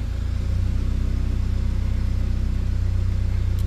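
A Citroen C5 engine idles steadily after starting, a loud, even low rumble with a fine regular pulse running throughout, close by and with no speech over it.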